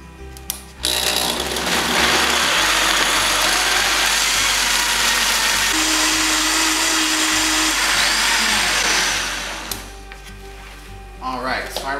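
A high-powered blender runs a breakfast fruit smoothie with soft fruit loaded at the bottom. It roars loudly and steadily for several seconds before spinning down, with a few faint knocks at the start and end.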